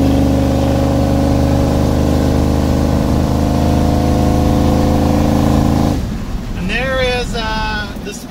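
A 1971 Chevy C10 pickup engine drones steadily while driving, a loud in-cab hum, until a voice briefly takes over near the end.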